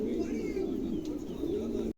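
Mundi pigeons, two males of the same color kept for sale, coo steadily and close by in a low rolling murmur that runs nearly two seconds before cutting off abruptly.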